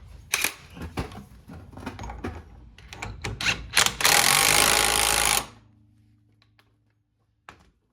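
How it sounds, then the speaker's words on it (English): An impact driver zips a bolt down on a Jeep Cherokee XJ in a garage, with a loud sustained whir of a second or so after a series of clicks and clatter, then the tool stops and the room goes quiet. "I'll zip it down first with the power ratchet, or the power, what do you call this thing? Driver impact."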